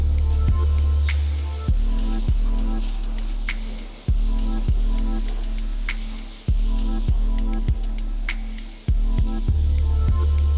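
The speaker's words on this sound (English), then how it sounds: "they've just got a Karcher Professional, so we're just going to jump right in and we're going to rinse it off" A Karcher Professional pressure washer runs steadily while rinsing mud off an ATV outdoors, a loud constant motor hum with hissing spray, broken by repeated sharp clicks as the trigger cycles every couple of seconds.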